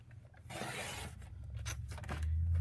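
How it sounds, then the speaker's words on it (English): Paper cut for a mini album page mat, a close rasping slice lasting a couple of seconds, steady and alone without talk. "So we're gonna turn it this way and cut it at 6 1/4."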